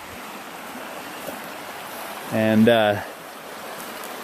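Water rushes through a desert wash as a steady, broad roar, near and constant, and a voice briefly cuts in partway through.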